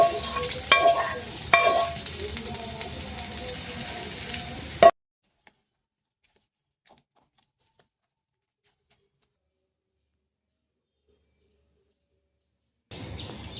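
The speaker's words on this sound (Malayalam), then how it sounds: "അകത്തോട്ട് നമുക്ക് കടുക് താളിച്ചത് ചേർത്ത് കൊടുക്കാം" Mustard seeds tempered in hot oil sizzle and crackle steadily up close as they are stirred into South Indian coconut chutney. The sound then stops abruptly into silence.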